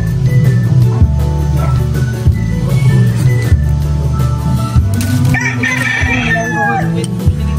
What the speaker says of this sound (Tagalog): Ayan, daming manok.